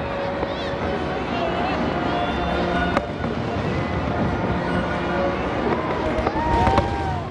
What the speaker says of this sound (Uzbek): May kuni faxriylar sharafiga salyut otiladi.